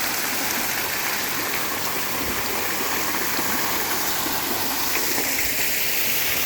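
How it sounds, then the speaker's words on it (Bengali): Steady, loud rush of a splashing water fountain at Swapnadweep Resort, Ishwardi, Pabna, a continuous dense hiss with no pauses, close by. "এ যে পানির ঝর্ণা"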